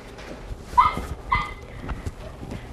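A tiny brown-and-white Chihuahua-mix male puppy, about ten weeks old, gives two short high yips close by, with faint shuffling noise before and after.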